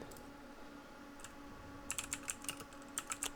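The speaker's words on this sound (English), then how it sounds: "Sorry about my keyboard." Faint typing on a computer keyboard, a quiet run of quick clicky keystrokes in irregular bursts over a low background hum.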